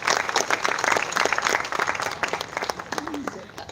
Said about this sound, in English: through a round of applause.